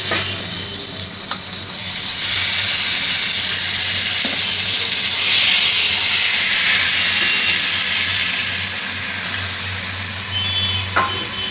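Pieces of mutton drop by hand into a hot pan of browned onions for a Bengali mutton curry and set off a loud, close, continuous sizzle and hiss that swells and holds for several seconds, with no voices.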